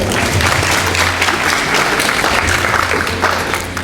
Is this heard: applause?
yes